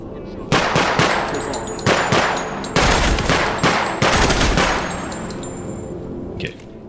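Loud gunfire in Project Silverfish, a rapid string of sharp, close shots in several quick bursts with metallic ringing between them, fading out toward the end.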